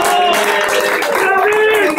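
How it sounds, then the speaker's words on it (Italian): Onstage voices talk and exclaim over scattered audience clapping at a comics festival show, with the clapping fairly close and mostly buried under the speech. "Guarda, guarda Conte Persichetti come applaude"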